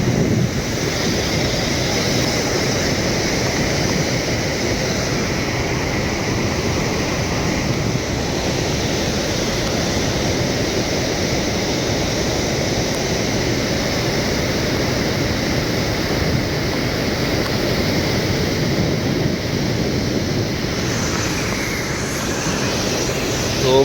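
Water rushes through eight opened dam gates in a village setting, a loud, continuous roar of heavy flow with wind buffeting the microphone and no talk.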